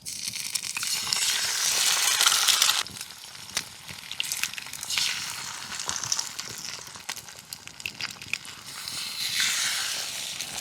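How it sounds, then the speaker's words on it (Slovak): Eggs frying in rendered bacon fat in a hand-forged pan over a campfire, a steady bright sizzle and crackle that swells and eases, fairly close with no talk. "nechal som teda vytopiť tuk a potom som pridal 4 vajcia"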